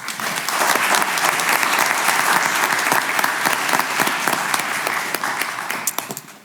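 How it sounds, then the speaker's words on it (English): Sustained applause for board members at a school board meeting, a dense steady clapping from the room that holds for several seconds and fades slightly at the end. "a round of applause for all of our board members"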